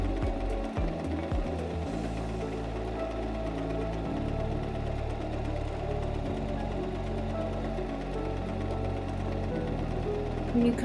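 A Singer M330 sewing machine stitches a buttonhole, a steady mechanical whir with a rapid needle rhythm that runs continuously and up close, with a brief change in pace near the start.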